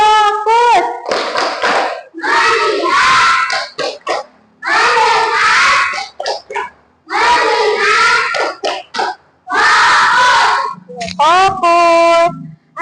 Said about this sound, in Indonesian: mari kita tepuk fokus